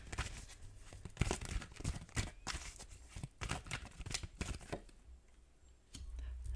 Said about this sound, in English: as I was shuffling these cards